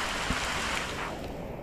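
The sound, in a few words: heavy rain falling outdoors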